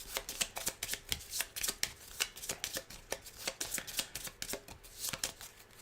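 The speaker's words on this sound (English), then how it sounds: "And then we are going to shuffle the deck because she needs to draw 5 cards." Board game cards from a Harry Potter Hogwarts Battle deck being shuffled at close range, a steady run of crisp riffling bursts and slaps that repeats throughout with no talking.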